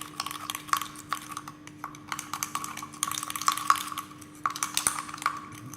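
Small batch of cake batter being mixed after egg and vanilla essence are added, with light repeated clinks and scrapes of a utensil against a bowl, close and fairly quiet, no talking.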